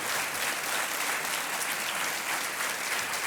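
A studio audience at a televised quiz show breaks into sustained, dense applause, steady and loud from start to finish with no voices over it.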